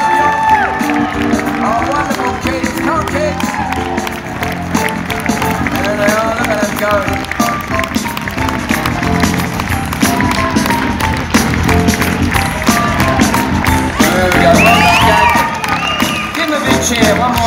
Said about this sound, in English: Give them a big, big scream, a big,